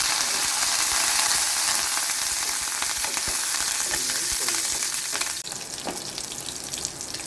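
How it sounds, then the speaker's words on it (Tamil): Ginger, green chili and curry leaves sauté in hot oil in a pan for a vegetable stew, a loud continuous crackling sizzle with occasional scraping stirs, close up and without talk. "இதுக்கப்புறம் நம்ம இஞ்சி, பச்சை மிளகாய், கருவேப்பிலை எல்லாத்தையும் சேர்த்து நல்லா வதக்கிடுவோம்."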